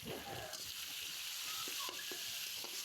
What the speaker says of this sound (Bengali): তা আমি এগুলো গরম মশলা ভালো করে ভাজা ভাজা করব।